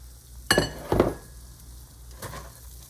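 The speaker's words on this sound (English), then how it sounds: "now it's starting to sizzle a little bit" A low, steady sizzle of vegetables frying in oil in a pan, broken by a few sharp clinks and clatters of utensils against cookware.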